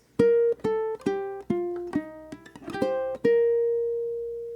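A ukulele plays a short bar of a song, bright plucked and strummed notes in a quick rhythm, ending on a ringing raked chord that fades out.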